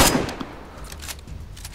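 Several sharp gunshots in the game DayZ crack in quick succession, loud and close, with a burst at the start and more scattered shots after.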